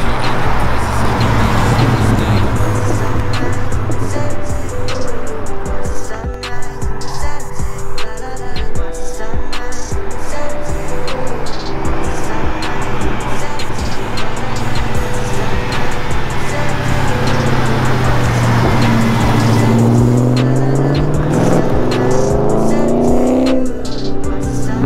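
A Pontiac GTO passing outdoors on a cold day, its engine rumbling steadily close by and then swelling in a loud, rising rev as it comes through, with no talking over it.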